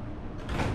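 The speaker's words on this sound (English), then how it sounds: "Nope, door closes, okay." A house door swinging shut nearby with a soft sliding rush that ends in a muted thud, quiet and brief with no voices over it.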